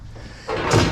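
Barn doors on a hobby farm slide open with a rising scraping rumble that swells in the second half, ending in a louder thump nearby.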